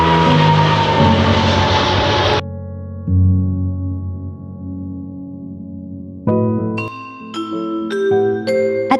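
A steady airliner engine drone hums for several seconds, loud and close, before shifting into a brighter rising whine as the plane powers up.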